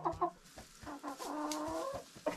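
Buff Orpington chickens cluck close by in a short run of soft, throaty calls, with one longer drawn-out note in the middle.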